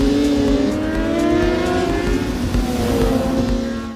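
A Honda CBR 600RR racing motorcycle engine screams loudly at high revs, pitch rising and shifting through gears over a few seconds, close and continuous with no talk.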